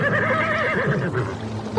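A horse neighs loudly as it sinks into an underground river whirlpool, a wavering whinny heard close and alone over a rushing water-like background.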